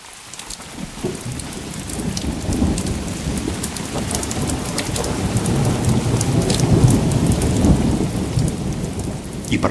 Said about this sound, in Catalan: A mig camí va començar a ploure molt fort.